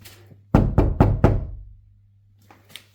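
Knuckles rap a car's rear door panel that has no sound deadening, four quick hollow knocks in a row followed by a couple of fainter taps, ringing slightly with a low hum underneath.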